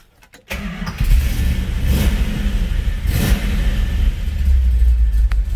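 A Plymouth Cuda with a Comp Cam and a 6-speed transmission cranks briefly and fires up, then settles into a loud, rumbling, lumpy idle with occasional revs, close by.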